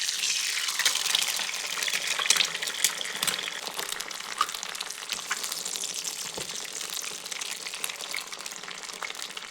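Two eggs sizzling and crackling in hot mustard oil in a wok as they are scrambled, a steady loud hiss with sharp popping spatters throughout.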